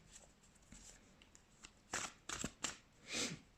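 Tarot cards being shuffled, a few soft riffles at first and then several louder, brisk bursts of card flutter toward the end, close up with no talking.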